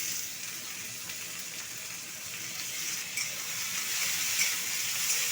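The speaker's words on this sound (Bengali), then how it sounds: "আলুটাকে ঢাকা দিয়ে দিয়ে ভেজে নেবো" Potatoes coated in salt and turmeric fry in hot oil with dried red chilli and onion, giving a steady, close sizzle with a soft crackle that builds slightly toward the end and no talking.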